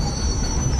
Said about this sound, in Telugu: ఇప్పుడు ఈ ట్రైన్ ఎక్కాలి